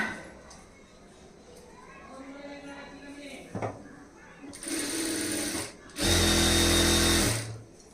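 A sewing machine stitches the front side of a high-neck blouse in two loud bursts of steady mechanical whirring, close by, preceded by quieter handling noises and soft talk.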